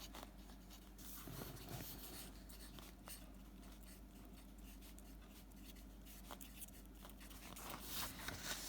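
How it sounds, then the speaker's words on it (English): Pen writing on paper during a calculus problem, a faint, continuous scratchy rubbing with small irregular strokes, close up and quiet, with no talk. "So I'm going to write this down."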